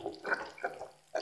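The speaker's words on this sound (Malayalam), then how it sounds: "ഇതിലേക്ക് ഞാൻ ആവശ്യത്തിന് വെള്ളം ഒഴിച്ച്" Water poured into a pan of curry made with ground coconut, cumin and shallots, for a dried mackerel and raw banana dish; brief close splashing bursts with a short gap between pours.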